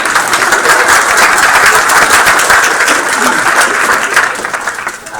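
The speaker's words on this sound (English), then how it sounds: "Somebody clap for them." Steady applause from a meeting audience thanking the coaches, dense clapping sustained throughout and tapering slightly at the very end.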